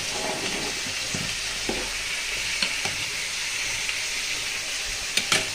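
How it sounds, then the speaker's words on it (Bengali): Eggplant slices (begun bhaji) frying in a pan make a continuous bright sizzle, broken by a few soft clicks and scrapes of stirring. "বেগুন ভাজিটা করে নিচ্ছি দুপুরের জন্য"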